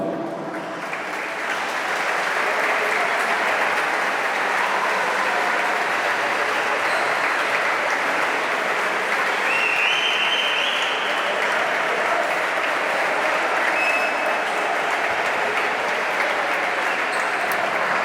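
Loud, continuous applause fills a hall as a handball club presents its youth girls' team for the season, many hands clapping steadily for the whole stretch after a slightly softer start.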